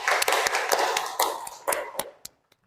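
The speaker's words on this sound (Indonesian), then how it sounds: "tepuk tangan dulu untuk Mbak Afri." Hands clapping in a classroom lesson, a burst of sharp claps that thins into a few scattered final claps and then stops, heard close with no talking.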